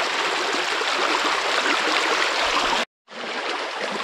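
River rushing over rapids at a beaver dam, a steady broadband roar of flowing water with a brief dropout near the end.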